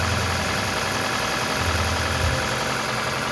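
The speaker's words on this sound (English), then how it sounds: "You can hear the sound of the engine." A repaired Toyota Camry hybrid's 2AZ engine, running without a catalytic converter, idles with a steady low rumble and a continuous hum, close and even throughout with no talk.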